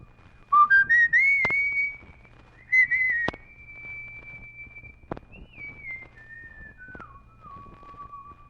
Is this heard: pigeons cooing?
no